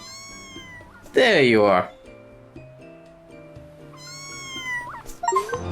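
A cat in the video game Mika and the Witch's Mountain gives a loud, drawn-out meow, with softer mews before and after, while a person speaks briefly in between.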